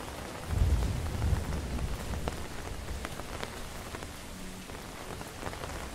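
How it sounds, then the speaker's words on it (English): Steady rain pours down on surfaces outdoors, a dense continuous patter with a brief heavier burst near the start and scattered louder drops throughout, no talking. "The rain is increasing."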